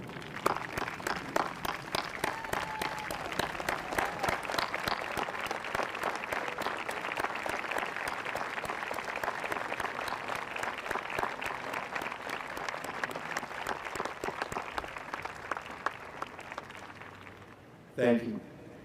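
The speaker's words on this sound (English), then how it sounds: "Please join me in giving these outstanding educators the standing ovation they deserve." A graduation audience gives a standing ovation, with loud, sustained clapping from a large crowd that continues steadily for many seconds before tapering off near the end.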